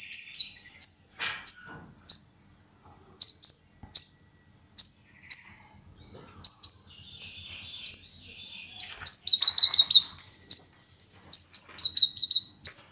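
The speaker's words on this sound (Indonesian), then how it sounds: "Ini koninnya." A konin songbird kept without a female sings close and loud, repeating sharp, high chirping notes in quick clusters with brief pauses, joined by a few trilled phrases.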